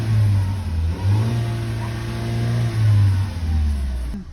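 A Peugeot 3008 engine running after its battery module was replaced, idling close up with a few mid-range revs rising and falling before it cuts off abruptly.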